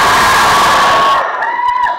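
A packed crowd at a movie trailer launch event shouts and cheers loudly as one roar, which drops to scattered whoops and yells toward the end.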